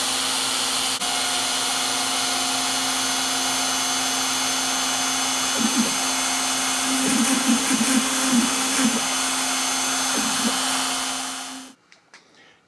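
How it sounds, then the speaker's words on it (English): A CNC router spindle carves a fleur-de-lis into a wooden coaster with a continuous steady whine and hum, with irregular cutting chatter midway, until it winds down near the end. "So now we'll go ahead and turn the spindle on, and we'll be able to carve."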